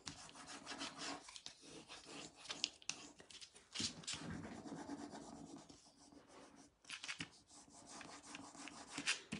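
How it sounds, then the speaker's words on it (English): A spare paper top sheet rubbed along the edge of a painting, giving steady papery rasping strokes in repeated bursts with brief pauses, close and fairly soft. "So I'm going to use my extra top sheet just to do that edge. So I'm not rubbing where I've already worked."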